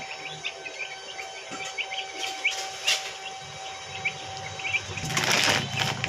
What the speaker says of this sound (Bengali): এখানে টোটাল আড়াইশো পিস মুরগি বাচ্চা আছে